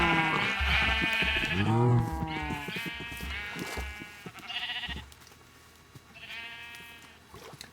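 A series of Minecraft sheep bleats, a couple long and quavering then shorter calls spaced apart, nearby and gradually softer.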